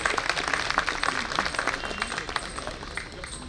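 An audience claps steadily at an All India CPWD Engineers Association New Year celebration. The applause is fairly faint and dense, with no clear break over a few seconds.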